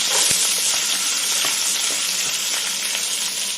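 Onions sizzle and fry in oil in a pan for a home-cooked chicken curry, a loud, continuous crackle that is close up, with faint stirring clicks.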